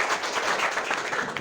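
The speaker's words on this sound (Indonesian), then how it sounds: "Ya, tepuk tangan untuk semuanya." A class of students applauds together, a dense, steady patter of hand claps that runs evenly throughout at close range with no talking over it.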